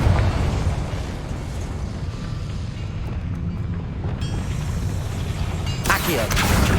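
Booming blasts of a Confringo spell in Hogwarts Legacy, with repeated rumbling explosions and crackling bursts that flare loudly again near the end.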